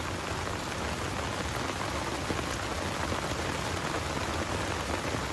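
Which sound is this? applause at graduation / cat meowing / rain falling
rain falling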